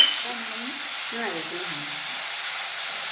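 Onion and ginger-garlic paste frying in a pan for egg curry, giving a steady soft sizzle and hiss with a voice briefly talking over it.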